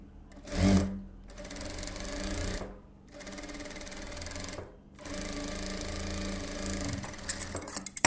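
Sewing machine stitching a silk saree blouse with a lining underneath, running in steady close whirring runs broken by three short pauses, with no talk.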